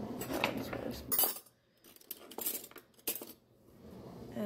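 Metal spoons clink and jangle against one another as one is pulled from a drawer, in several quick bursts separated by short pauses, close and fairly loud, with no talking.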